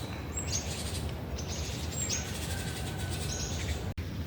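Morning birdsong in an empty Ukrainian city: brief high whistles and chirps scattered over a steady background hiss, a few notes repeating at irregular intervals.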